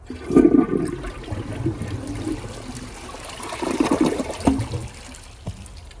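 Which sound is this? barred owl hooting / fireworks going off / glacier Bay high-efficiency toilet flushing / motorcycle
glacier Bay high-efficiency toilet flushing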